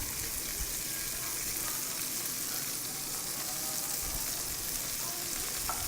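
Cabbage and green peppers sautéing in a pan with browned garlic, a steady soft sizzle with faint stirring scrapes, fairly quiet and without talk.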